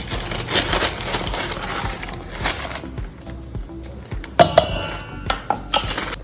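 Cups of Aashirvaad wheat flour are tipped into a mixing bowl for poori dough, giving a soft rustling pour followed by several sharp clinks and taps of the cup against the bowl.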